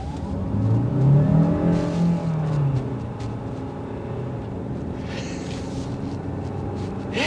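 A 2024 Hyundai Santa Fe Hybrid SUV engine revs up hard as it switches from battery to combustion power, its pitch climbing and then settling into a steady, loud drone as the vehicle pulls away.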